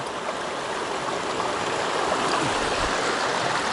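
Mountain stream water rushing steadily at close range while a bottle is refilled during a long bicycle trip across the Andes, a continuous broadband wash with no voices.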